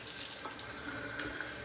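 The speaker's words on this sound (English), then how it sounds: "I'm just adding some water to my little tub here." Water runs from a tap into a small shaving soap tub, a steady close splashing hiss with a few brief spatters, with no talk over it.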